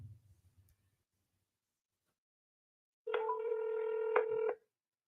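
A telephone line gives a single steady tone for about a second and a half after silence, clear and close, following a brief low murmur at the start.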